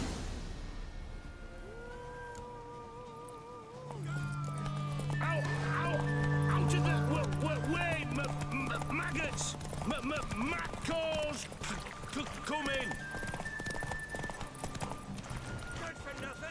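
Horse hooves clip-clop at a gallop in The Witcher 3, with whinnies and game music, a sustained low drone and speech over the top; the hoofbeats build from about four seconds and run steadily to the end.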